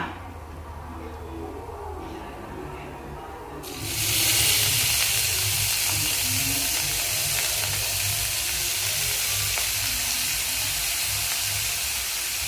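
Vegetables dropped into a hot pan of garlic, a sudden loud burst of sizzling that jumps in and then settles into steady frying hiss, close and continuous.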